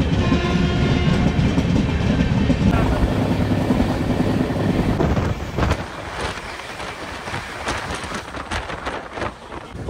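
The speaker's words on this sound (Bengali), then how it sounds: "5:30 আমাদের ট্রেন ছেড়ে দিল ধানবাদ জংশন রেলওয়ে স্টেশন।" An LHB passenger train pulls out of Dhanbad Junction with a loud, continuous rumble that gives way to rhythmic wheel clatter and clanks as it picks up speed.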